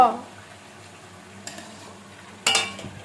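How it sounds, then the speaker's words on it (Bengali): Pulao rice frying in a pan: a faint, steady sizzle broken by two short scrapes of a spoon stirring the grains, the second louder. "পোলাওয়ের চালটা ভালো করে ভেজে নিতে হবে"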